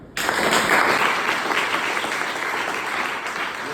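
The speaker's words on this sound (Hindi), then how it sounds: "ठोको ताली पे" Applause breaks out suddenly from a crowd, a dense, even clapping that stays loud and sustained to the end.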